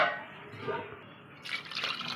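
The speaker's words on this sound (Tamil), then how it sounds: "ஒரு அரிசிக்கு நம்ம ரெண்டு டம்ளர் தண்ணி ஊற்றிக்கிறோம்" Water poured from a tumbler into a cooking pot of sautéed tomato rice base, a soft splashing pour that swells in the second half, fairly close and with no voices.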